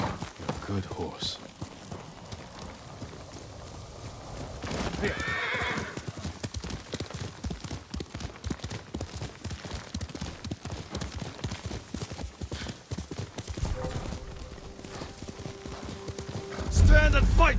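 In Ghost of Tsushima, a horse gallops with steady rapid hoofbeats and lets out a whinny, while characters speak over the action.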